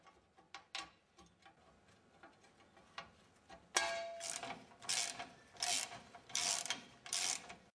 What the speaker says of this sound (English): use the socket wrench to remove the blades as follows